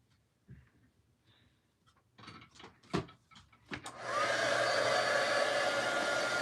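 A hair dryer starts up after some light handling noises and then blows steadily and loudly, drying craft paint at close range.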